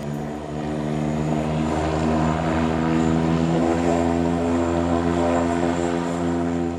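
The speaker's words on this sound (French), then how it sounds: "Des moteurs un peu particuliers puisque l'hélice tourne avec les cylindres." A rotary aircraft engine, its cylinders spinning with the propeller, drones loudly and steadily nearby, a continuous throbbing roar with no pauses.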